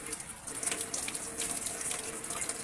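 Water gushes hard and steady from a faucet at a rural family property in the Philippines, a loud, continuous broadband rush with no break.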